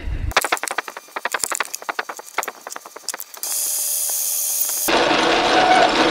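Close, rhythmic metallic scraping and cutting bursts from a lathe center drilling a metal part, followed by a steady machine whir and then a louder, broader motor hum.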